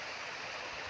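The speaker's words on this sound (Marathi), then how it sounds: "यामधून सायपन पद्धतीने पाणी घेतलेले आहे" Water flows steadily through a siphon pipe in a short, soft, even rushing hiss with no voices.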